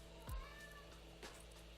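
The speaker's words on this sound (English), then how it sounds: "And Andrew, I'm really sorry again about this cat" A house cat gives a single faint meow near the start, with a softer sound a moment later, over a quiet indoor background.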